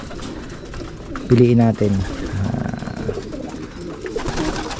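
Pigeons coo in a pigeon loft, a short clear run of rolling coos nearby among other bird sounds, while someone speaks.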